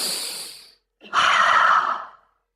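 A person takes a slow, audible breath in, pauses, then lets out a long, deep exhale, close and clear with nothing else heard.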